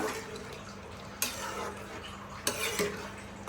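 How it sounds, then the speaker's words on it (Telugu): A spoon stirs tender mutton and freshly added water in a cooking pot, producing continuous wet scraping and gentle sizzling, broken by two sharp metallic knocks against the pot's side. "సరే అయితే కలిపేసుకుందాము నీట్గా"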